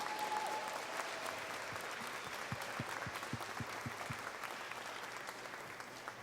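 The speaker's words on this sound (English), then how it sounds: "Give yourselves a huge round of applause." Audience at a caring-workforce rally breaking into steady applause, heard at a distance and fairly quiet, a few sharper claps standing out through the middle.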